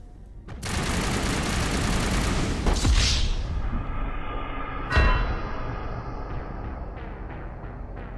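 Sustained, dense assault rifle fire in Mass Effect Legendary Edition, a loud continuous rattle lasting several seconds with a couple of sharp impacts, fading into a lingering hum and faint clicks.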